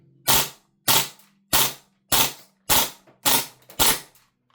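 Seven sharp, loud shots ring out at an even, unhurried pace from an Archwick APC9K gas blowback airsoft gun, each a crisp pop followed by a short decaying hiss.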